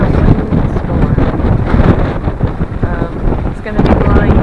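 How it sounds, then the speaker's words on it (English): Strong windstorm wind in Gulfport buffets and roars steadily across the microphone, loud and continuous with gusty surges throughout. "today we're in for quite a windstorm"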